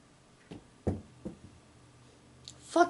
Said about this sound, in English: Did you knock over a battery?